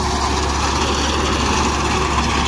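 A tractor engine runs steadily while harvesting wheat in a rural field area, a continuous near drone with no breaks or voices.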